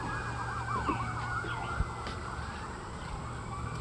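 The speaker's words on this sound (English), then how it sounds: "And holy crap, the sirens, man." Emergency vehicle sirens wail outside in a steady rising-and-falling sweep, moderately distant, with a low hum underneath and no voices.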